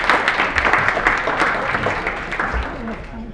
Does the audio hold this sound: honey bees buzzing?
no